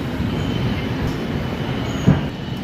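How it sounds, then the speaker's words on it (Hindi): Passenger train 13151 bound for Kolkata pulls out of Gomo junction with a steady loud rumble of wheels on track and one brief sharp clank near the end. "ट्रेन जो है वो डिपार्ट कर चुकी है गोमो से।"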